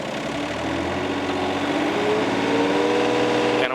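A John Deere 30P mini excavator's engine runs steadily and loud, with its throttle raised and the pitch climbing gradually. No one speaks.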